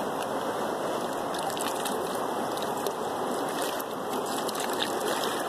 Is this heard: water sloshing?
yes